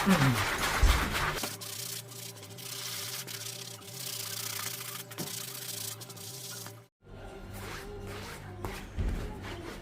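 A brush scrubs an old canvas sneaker treated with foam dry cleaner, making soft, close rubbing strokes repeated over a steady background hum, with a brief break partway through.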